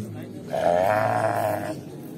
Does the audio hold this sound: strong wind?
no